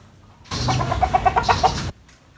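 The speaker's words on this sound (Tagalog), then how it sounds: "Ito, may manok." A chicken near a flock of ducks gives a quick run of about eight close, rhythmic clucks in one short burst, then falls quiet.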